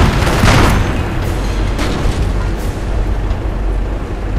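A deep, rumbling explosion as a base is destroyed in the Company of Heroes video game, loud and continuous with a heavy low boom that slowly fades.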